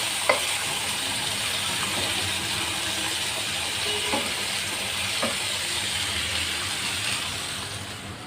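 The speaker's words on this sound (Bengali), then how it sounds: "ভালোভাবে উঠিয়ে পাল্টিয়ে ভেজে নিচ্ছি মানে কড়া ভাজবো না হালকাই ভাজবো" Kalibaus fish fry in a pan, a continuous broad sizzling hiss with a few faint clicks and knocks as pieces are lifted and turned, steady and close with no talking.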